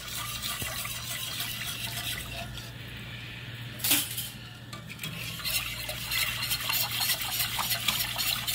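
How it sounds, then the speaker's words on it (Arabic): Crème caramel mixture of milk being stirred in a pot, with steady soft scraping and liquid swishing, a brief clink near the middle, and faint kitchen background throughout. "هلا بدنا نحطها على البص نحرك، ما بنوقف بقى بالتحريك، بنضل عم نحرك."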